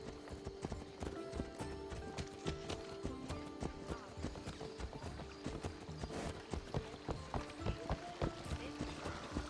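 A horse's hooves pound in a quick, rhythmic gallop throughout, with occasional other sounds mixed in, from the video game Assassin's Creed Odyssey.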